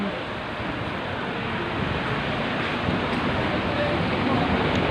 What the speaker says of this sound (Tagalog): Ayan, umuulan na, oh.